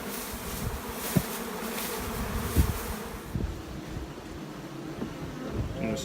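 Honeybees swarm around queen-rearing hive nucs outdoors, making a steady, close, droning buzz with a few louder passes as individual bees fly near.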